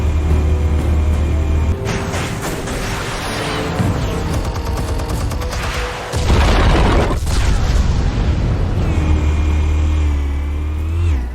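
Explosives detonating in the comic-book adventure game Batman: The Telltale Series, heavy booming blasts with rumbling debris over an engine-like drone, loud and close.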